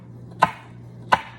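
A knife slices through a jalapeno on a cutting board, giving two crisp, evenly spaced cuts that sound close and clear against a quiet background.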